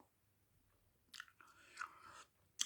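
Close, quiet mouth sounds of Hubba Bubba bubble gum being chewed, with a few wet, squishy chews in the middle and a sharp snap at the end.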